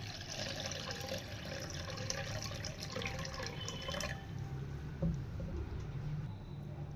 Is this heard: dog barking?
no